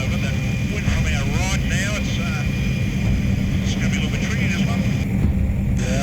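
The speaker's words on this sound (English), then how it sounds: "Brett is constantly monitoring parts of the helicopter pilot Dan can't see" A helicopter flies near a bridge in gusty wind, its rotor and engine droning steadily and loudly throughout, with voices talking over the noise.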